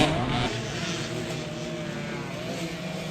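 Dirt bike engines rev in a motorbike race, a loud, continuous high-pitched drone that stays strong and steady for the whole stretch with no voices heard.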